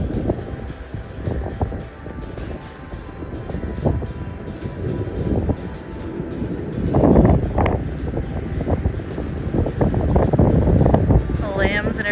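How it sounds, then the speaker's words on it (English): Gusty wind buffets the microphone outdoors on a chilly farm with lambs nearby, a rough, continuous low rumble that swells and eases, with occasional voice sounds mixed in. "with this wind, it feels like it should be snow"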